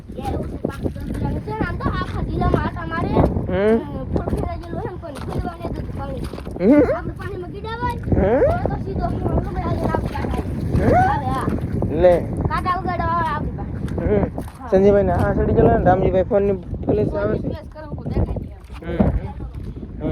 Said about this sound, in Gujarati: હા પવન બહુ છે ભાઈ